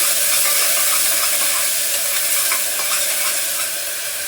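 Chopped onion fries in a pan with a loud, continuous hissing sizzle that stays steady throughout, with faint stirring clicks underneath.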